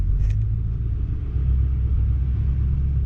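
Ford F450 pickup truck descending a 10% mountain grade in low gear, its engine a steady deep rumble with road noise, held loud and constant from inside the cab, no talking.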